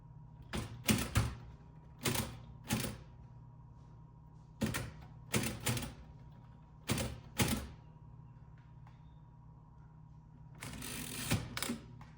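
A Remington Model Ten Noiseless typewriter with sticky, stiff keys is typed on in a quiet room, giving scattered clusters of two or three muted mechanical clacks separated by pauses, ending with a longer rattling burst.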